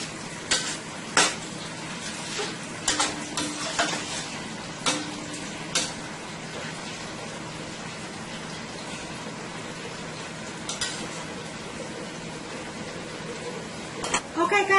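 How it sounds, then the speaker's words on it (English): Asparagus frying in a pan on high heat gives a steady broadband sizzle, with sharp clinks and scrapes of a utensil against the pan at irregular intervals. "it's been 2 minutes now since my asparagus is cooking up here"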